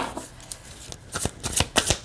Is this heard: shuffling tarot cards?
yes